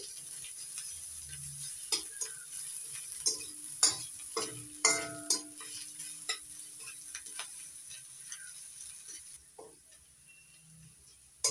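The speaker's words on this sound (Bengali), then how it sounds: "এবার দিয়ে দিচ্ছি রসুন কুচি, আদা কুচি। একটু নাড়াচাড়া করে ভালো করে ভেজে নিচ্ছি।" Chopped onion, garlic and ginger stir-fried in a pan, with a soft steady sizzle under repeated sharp scrapes and taps of a spoon stirring, close and moderately quiet, no talking.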